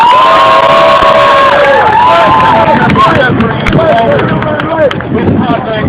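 Crowd at an outdoor police accountability rally in Manhattan cheering and shouting loudly and continuously, with whoops and raised voices over a dense, near roar of noise.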